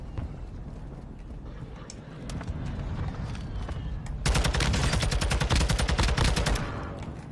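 Rapid video-game gunfire crackles close and loud in a first-person shooter match, sparse shots at first, then a dense sustained automatic burst from about four seconds to the end, with no talking.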